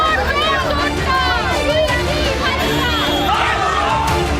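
An angry political crowd in West Bengal shouts "chor chor" slogans at Abhishek Banerjee. Many voices overlap in a dense, loud, continuous din close by, with no pauses.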